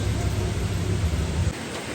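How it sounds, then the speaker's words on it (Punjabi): Dense, steady rain roars close by with a deep rumbling undertone, then drops off slightly near the end. "ਬਾਰਿਸ਼ ਬਹੁਤ ਤੇਜ਼ ਹੈ"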